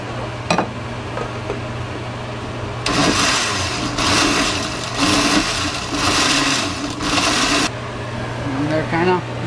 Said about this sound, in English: Just throw them in the blender.